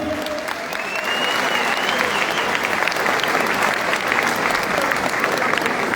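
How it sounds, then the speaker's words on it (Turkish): A crowd at a CHP party thank-you gathering breaks into loud, sustained applause that swells after the first second and holds steady, with faint voices mixed in. "Sayın Genel Başkanımız Özgür Özel'e büyük bir alkış istiyorum."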